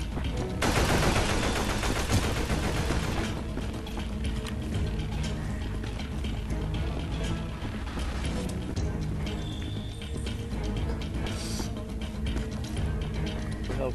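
Rapid gunfire bursts from a zombie shooter video game, dense and loud throughout, layered with game effects and music, with a player's voice talking intermittently over the shooting.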